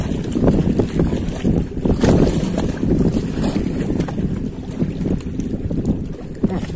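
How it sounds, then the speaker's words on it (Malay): Strong wind at sea buffets a small fishing boat, with loud gusty rushing and microphone wind noise under the faint slap of water, continuous and close. "Ini agak berangin-angin nih."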